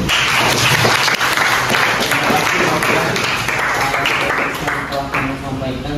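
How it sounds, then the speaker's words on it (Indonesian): A school class clapping hands together in a classroom, a dense burst of clapping close by and loud, with a voice speaking over it. "Tepuk tangan dulu."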